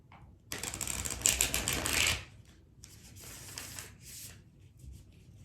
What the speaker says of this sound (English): Don't mind my loud shuffling, please.